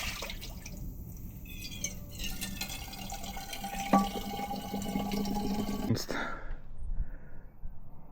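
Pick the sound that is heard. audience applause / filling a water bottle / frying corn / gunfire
filling a water bottle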